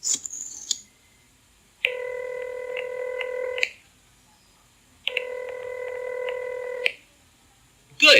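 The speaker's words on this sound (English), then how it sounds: "Good, it's ringing now." A telephone call is placed with a quick burst of dialing tones, followed by two long, evenly spaced ringback tones on the line, heard clearly with nothing else around them.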